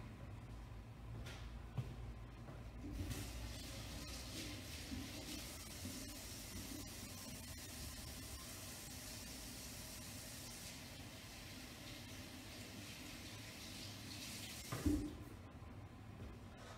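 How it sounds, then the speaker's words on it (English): Tap water runs steadily into a sink during handwashing in a home kitchen while cookies are being made, a continuous hiss from about three seconds to fifteen seconds, ending with a small clunk. "I'm just gonna go wash my hands."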